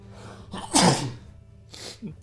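A person sneezes sharply once, close and loud, with a quick intake before and a short second burst of noise trailing after, during a game-playing session.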